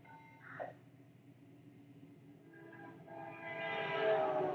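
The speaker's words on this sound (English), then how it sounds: "I want you to listen to the train whistle, or its horn" A passing train sounds its horn, which starts faint and swells louder toward the end with a sustained tone over a low rumble. No voices are heard.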